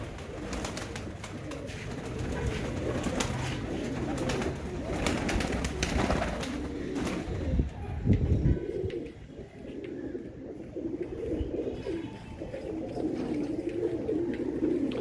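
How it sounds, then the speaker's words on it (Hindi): Several pigeons coo softly and repeatedly at close range, their low throaty calls overlapping against faint background rustling. "सारे जंबो साइज़ के कबूतर हैं।"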